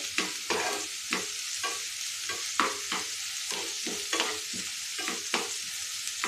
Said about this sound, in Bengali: এটাকে একটু হালকা ফ্রাই করে নিতে হবে